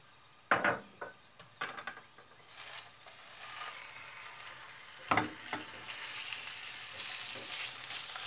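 Minced meat dropped into hot olive oil in a pan, with a couple of sharp bursts of sizzle and stirring clatter, settling into a steady close frying hiss.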